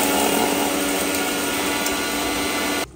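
A kitchen mixer grinder whirs loudly and steadily while grinding ingredients for a mixed vegetable curry, then cuts off abruptly near the end.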